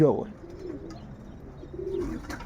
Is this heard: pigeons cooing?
yes